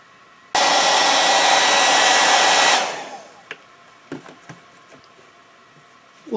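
A hair dryer heating a bike frame protector roars on loudly and steadily for about two seconds, then winds down, followed by a few faint taps and clicks.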